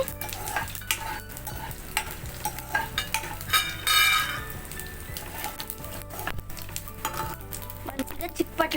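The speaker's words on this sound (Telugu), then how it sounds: "ఇప్పుడు తాలింపు వేస్తున్నానండి" Garlic cloves, dried red chillies and tempering seeds sizzle steadily in hot oil for a simple cucumber dal, with close stirring and occasional utensil clinks over the continuous crackle.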